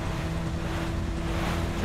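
A jet ski in Resident Evil 4 idles with a steady engine drone and a constant hum, under a wash of waves and wind. The sound is continuous and fairly loud, with no voices.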